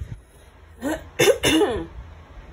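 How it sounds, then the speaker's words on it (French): A few harsh coughs close by, two or three bursts in quick succession with brief gaps, fairly loud against a quiet background. "Vous m'excusez, hein, je tousse un petit peu."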